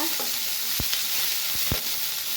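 Onions sautéing in a pan together with drumstick flowers for a poriyal, a continuous soft sizzle broken by a few spatula taps, close and steady.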